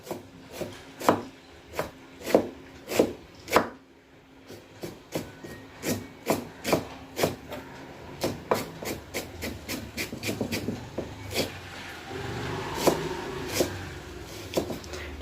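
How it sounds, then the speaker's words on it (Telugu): A knife chops through cabbage on a wooden board in a steady run of sharp, close strikes, about two per second, the pace quickening into denser cuts and scraping toward the end. "చూడండి నేను ఎలా కట్ చేస్తున్నాను"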